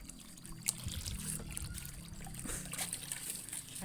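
Water trickling steadily onto chili, ginger and tomato seedlings in a rooftop garden, a close, continuous dribble and splash with no talking.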